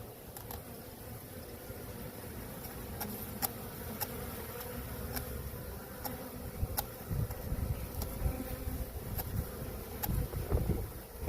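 A honeybee swarm drones in a dense, continuous buzz, with faint regular ticking clicks scattered throughout and a slight swell toward the end.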